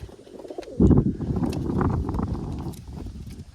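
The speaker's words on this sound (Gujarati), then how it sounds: "બહુ મોટું કબૂતર છે" A large pigeon coos softly at close range, with a louder burst of fluttering or handling noise about a second in, followed by rustling and shuffling.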